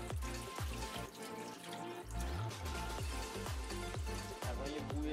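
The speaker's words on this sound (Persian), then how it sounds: "حالا وقتش که آبش رو کامل خالی کنیم" Soaking water pours and splashes out of a container of grain being drained while making malt, a continuous gushing, trickling flow with irregular sloshes and drips, close by and fairly loud.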